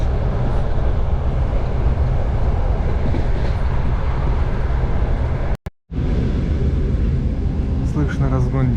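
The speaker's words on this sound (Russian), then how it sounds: "Слышно разгон дизеля." A 2TE10U diesel locomotive hauls a single-car Samara–Buzuluk train, giving a loud, continuous rumble of engine and rolling wheels heard from inside the car, broken by one brief dropout, with a voice speaking over it.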